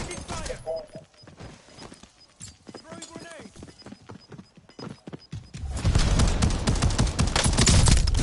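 Gunfire in the video game Call of Duty, with dense rapid shots building into a loud sustained burst near the end, close and heavy, mixed with other game sounds and talking over it.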